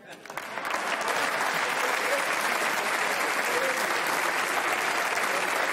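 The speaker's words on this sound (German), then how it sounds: "Applaus dafür gab es aus den Reihen der SPÖ." Members on the SPÖ benches in the Austrian parliament applaud during a special session, a few scattered claps quickly swelling into steady, sustained clapping across the chamber.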